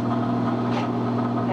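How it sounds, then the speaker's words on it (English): A wringer washer's electric motor runs with a steady low hum and mechanical drone, constant and fairly loud at close range, with a brief faint hiss midway. "That gets the motor going."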